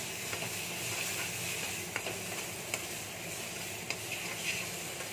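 Bottle gourd seed paste fries in a pan with a steady, close sizzle and crackle, broken by a few sharp scrapes and taps of stirring.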